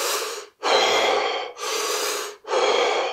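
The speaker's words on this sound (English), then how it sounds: "you might be holding your breath or alternately breathing really shallow" Shallow breathing demonstrated up close, three quick, airy breaths in a steady rhythm with brief pauses between them and no talking.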